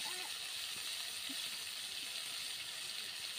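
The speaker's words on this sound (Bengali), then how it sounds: "দিয়ে ভালোভাবে গুগলিটাকে ভাজতে থাকবো" Snails fry in a pan with salt and turmeric, giving off a continuous, even sizzle and hiss that stays faint and steady throughout, with a few small clinks.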